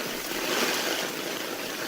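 A heavy rainstorm pouring down outdoors around a drainage setup with barrel tanks, a steady broadband rushing hiss of falling water, continuous and fairly close.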